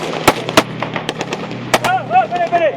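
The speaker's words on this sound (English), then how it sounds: "The advance faltered under the enemy's sustained and accurate rifle fire." Rifle fire cracks sharply and irregularly in combat between jihadists and Malian troops in Mali, with several loud close shots among fainter ones and a voice shouting near the end.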